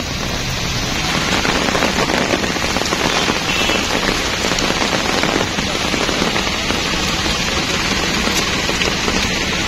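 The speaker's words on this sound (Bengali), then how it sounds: "এভাবে বৃষ্টি হলে সম্ভবত গাড়িগুলি ডুবে যাবে।" Heavy cyclone rain pours in a dense, loud, unbroken roar, drumming steadily on surfaces close by with no pause.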